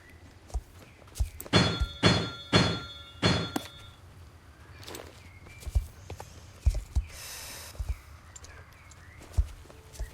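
A pony's hooves in the video game Star Stable Online: a quick run of four sharp, close hoofbeats, followed by scattered softer thuds and clops.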